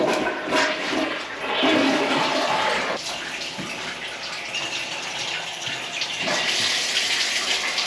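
Hot water runs hard from a tap in a house under repair, a steady gushing splash filling the whole stretch with no pauses and no voices.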